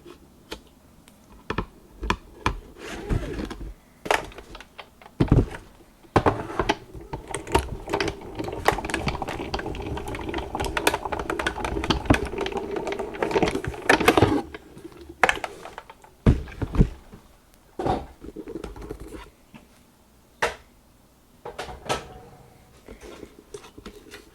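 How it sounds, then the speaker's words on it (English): An old manual die cutting machine presses a die through paper, grinding with a steady rolling crank and rapid clicking for several seconds between scattered sharp clacks, close and fairly loud. "I'm just using my old die cutting machine here"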